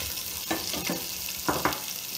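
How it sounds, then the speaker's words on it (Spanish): Vegetables sizzle steadily in olive oil as they are turned and stirred, with a few brief scraping clatters over the continuous frying hiss. "Lo siguiente que vamos a hacer es darle un par de vueltas en este aceitito a las verduras"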